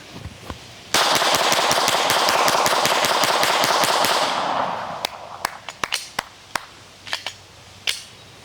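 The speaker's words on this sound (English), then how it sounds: "I'm gonna go ahead and give y'all 19 Gen 5 mag dump for speed, reliability" A Glock 19 Gen 5 pistol fires a fast magazine dump, a dense string of sharp, loud shots for a few seconds followed by scattered single pops and clicks.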